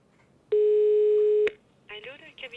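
A steady telephone line tone rings out for about a second while a caller phones a doctor's office, then cuts off, followed by a voice talking.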